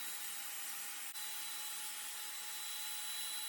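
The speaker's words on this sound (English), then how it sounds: "I clamp down a straight edge, then use my circular saw to plunge cut and cut a nice straight line." Circular saw plunge cutting a straight line through a kitchen countertop, a steady, fairly faint whining drone that holds even throughout with only a brief dip.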